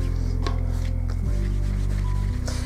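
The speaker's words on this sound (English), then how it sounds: "that is my aircon, so I apologize for that noise" A loud, steady air conditioner hum drones continuously, with low tonal components that shift pitch slightly as its motor cycles, over faint brushing sounds.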